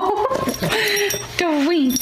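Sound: puppy whimpering

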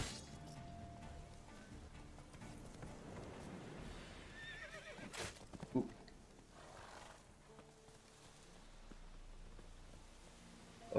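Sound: horse neighing in a video game

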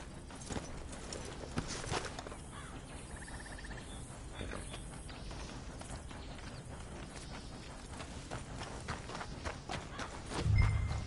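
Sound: horses walking in video game Red Dead Redemption 2

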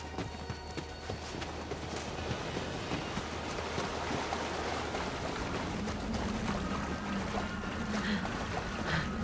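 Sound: waterfall in the video game Borderlands 3

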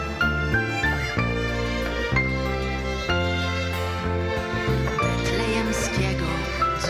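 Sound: distant Bethlehem bell ringing

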